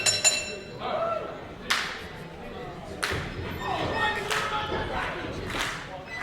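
A crowd at a wrestling show clapping together in a steady rhythmic beat, sharp claps recurring roughly every second or so, mid-distance in an indoor venue, with a commentator talking over it.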